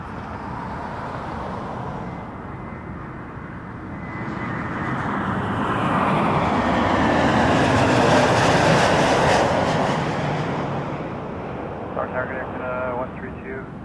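A Boeing 747 airliner arrives at Toronto Pearson airport, its broad engine roar rising out of a steady rumble, peaking loudly in the middle and easing off again, with faint radio-like voice fragments near the end.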